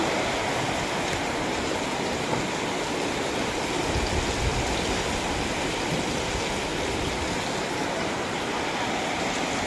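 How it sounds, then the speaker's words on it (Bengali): Heavy rain pours in a steady, dense roar that holds at an even level for nearly ten seconds, with no voices over it. "এবার দেখো কি বৃষ্টি হচ্ছে।"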